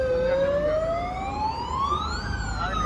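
An ambulance siren sound effect wails upward in a long rising sweep, loud and close, then dips and climbs again across a few seconds.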